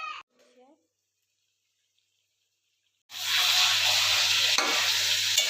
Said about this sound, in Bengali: ভালো করে আবার কষে নিচ্ছি।